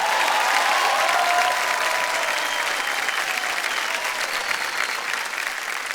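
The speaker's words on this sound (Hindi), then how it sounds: "जोरदार तालियां बज जाए इनके लिए" Studio audience applause on a televised quiz show, a dense, steady wash of many hands clapping that stays loud for the whole stretch, fading only slightly toward the end.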